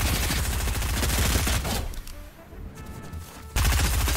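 Rapid bursts of automatic gunfire from a first-person shooter game, fired from the hip, dense and loud at the start and end with a quieter gap in the middle.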